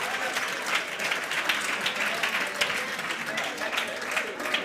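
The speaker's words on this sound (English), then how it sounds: "I think we can give a better round of applause than that." Audience applause fills a hall at a Women in Sport Summit, a sustained crowd of hands clapping with a few faint voices under the steady clatter.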